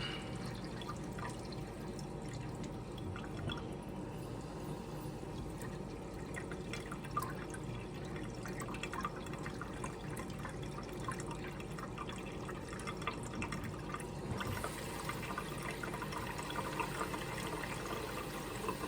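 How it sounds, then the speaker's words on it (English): Water runs and splashes steadily into a shower sump box on a Regal 2665 boat, a continuous trickling pour with faint dripping, close by and without talk. "So, turn on the water here."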